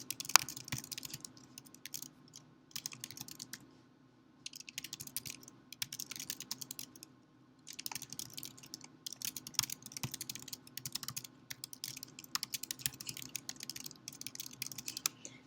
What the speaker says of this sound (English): as I began typing, one, it's indented